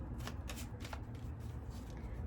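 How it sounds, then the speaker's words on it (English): Tarot cards being shuffled by hand in a few quick riffling bursts, close and clear over a low steady room hum, with no talking. "Let's pull some cards about it."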